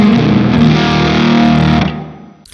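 Guitar played through a Fjord Fuzz ODIN IV pedal on its regular fuzz setting rings out loud and thick with distorted, sustained chords that fade away near the end, heard alone without any talking.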